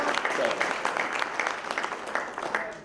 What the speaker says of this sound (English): I think that's pretty soft as a round of applause for a man who's actually done quite a bit for us.